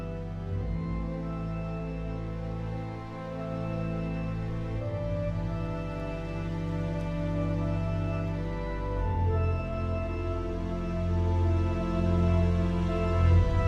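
Organ registration layering a clarinet stop, a flute stop and an organ lead voice, sounding as a full sustained melody over a dense held harmonic bed, steady and unaccompanied by any voice.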